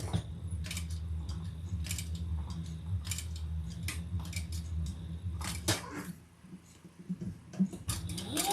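Scissors cutting connector straps to size, a series of crisp snips and clicks at an uneven pace over a low steady hum, close and fairly faint.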